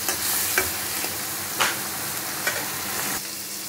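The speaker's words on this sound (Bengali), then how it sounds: "আর একটু তেল দেবো আমি। ভালো করে কষানো হয়ে যায়।" Spices sautéing in oil in a pan, a dense steady sizzle close up, broken by a few soft scrapes of a spoon stirring, with no talk.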